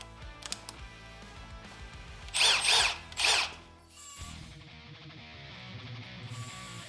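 A drill bit boring through half-inch steel with cutting oil, two short loud grinding bursts of drilling close by, followed by quieter clanks and shop noise.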